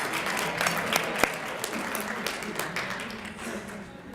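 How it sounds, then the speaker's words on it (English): Banquet audience applauding students' parents, a short burst of clapping from a crowd in a hall, fading toward the end. "you're gonna give your parents a big thank you and round of applause as well for all that they've done for you"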